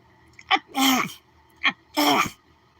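A human voice imitates Donald Duck sneezing: two quick sharp inhales, each followed by a squawky, nasal burst, repeated twice in a close, clear rhythm.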